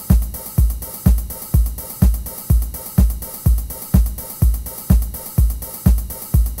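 Simple programmed drum beat in Madtracker, punchy kicks and crisp snare hits in a steady, even loop of about two hits per second, loud and up front with no talk.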